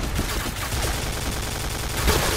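An MK.46 machine gun fires in a video game in a dense, continuous burst of rapid gunfire that stays loud and steady throughout, with no pauses.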